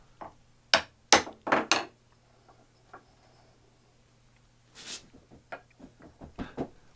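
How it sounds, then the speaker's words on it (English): Workbench vise end cap being tapped into place, with a few sharp close knocks in a quick cluster followed by lighter scattered taps and small handling clicks in a quiet workshop. "So I just slide it in place and give it a couple of taps"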